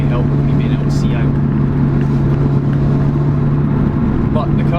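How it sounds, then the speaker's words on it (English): Loud, droning engine noise from inside a 2002 Toyota Celica with a broken exhaust, a constant low hum that persists without letting up, with faint voices underneath. "the car we're in is a 2002 Toyota Celica with a broken exhaust, as you can hear"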